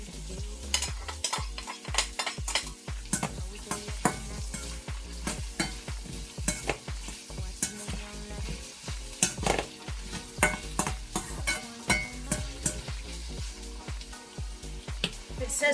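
Bay leaf and chopped onion fry in a pan after whole spices have popped, giving a steady loud sizzle broken by frequent sharp clatters of a spoon stirring against the pan.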